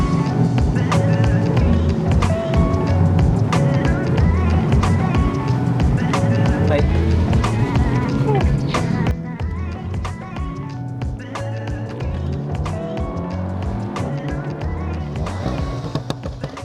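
A car's engine and tyre rumble roll along continuously on country lanes, with jolts and knocks from the road and occasional talk over the noise.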